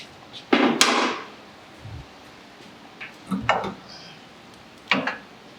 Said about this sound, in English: So now we want to go ahead and get this axle out of the spindle.